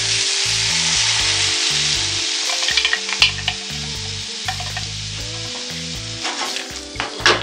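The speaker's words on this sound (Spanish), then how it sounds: "Vamos a continuar salteando" Potatoes sautéing in a pan for cilantro potatoes, a steady close sizzle with scattered crackles and occasional sharp clicks and scrapes, heard alone with a low rhythmic hum underneath.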